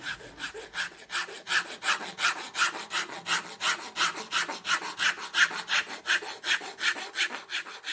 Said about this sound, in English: And then we had planing of wood, which of course is a regular occurrence in a workshop